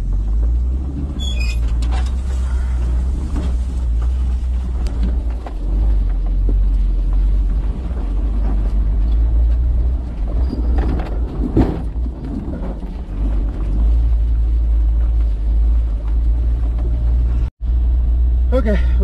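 A stock Suzuki X-90 crawls around a rock on a rough off-road trail, its engine rumbling loud and steady with crunching and scraping underneath, as people talk over it throughout.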